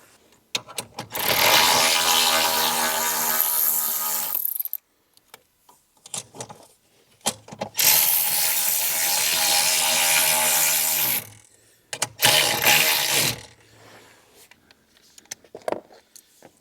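A ratchet loosens 8 mm bolts on a Jeep JL Wrangler or JT Gladiator, sounding as long, loud, rapid ratcheting runs in three bursts, close up, with quiet gaps and small clicks between them.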